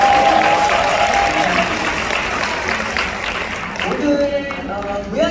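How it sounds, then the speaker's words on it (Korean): An audience at a seminar lecture applauds in a dense, steady stretch of clapping that fades slightly near the end, with faint voices underneath. "박수 한 번 더 부탁드리겠어요."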